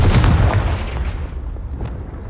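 A Confringo fire spell bursts in Hogwarts Legacy, a heavy close blast followed by a few trailing thuds and a fading rumble, with no talking.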